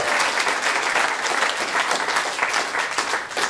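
A comedy club audience breaks into a steady, full round of applause at a stand-up show, dense clapping sustained evenly throughout with no talk over it.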